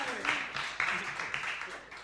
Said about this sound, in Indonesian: Tepuk tangannya yang kenceng dong.